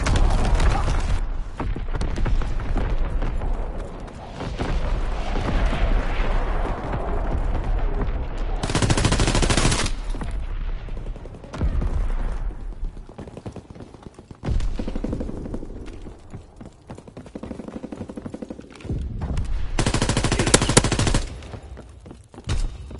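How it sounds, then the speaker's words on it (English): Enemy artillery and gunfire in a PS4 war game: bursts of machine-gun fire and loud blasts arrive in clusters, with sharp broadband bangs and rumbling booms, separated by brief quieter gaps. "Incoming enemy artillery! Get to cover!"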